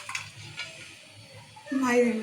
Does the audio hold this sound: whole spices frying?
yes